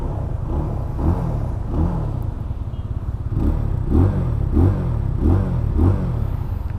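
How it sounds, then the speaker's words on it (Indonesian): Benelli TNT 25 2023 single-cylinder 250cc motorcycle engine revving: a deep, throbbing idle rumble with repeated short throttle blips rising and falling, close and loud with no talking. "raungan khas satu silinder 250 itu cukup gahar ya"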